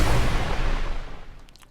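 Synthetic explosion effect built from shaped white noise: a loud broadband blast that rolls off and decays over under two seconds, with faint high residue at the tail.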